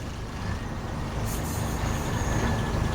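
A truck engine idles and rumbles loudly while the truck reverses, a steady low drone with a brief hiss of air partway through and no talking.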